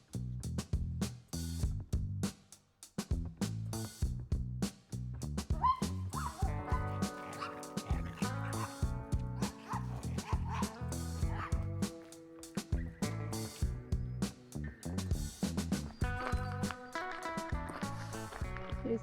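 Dogs on a lake trail in Alaska bark in rapid, repeated bursts, close and fairly loud, with short gaps between volleys.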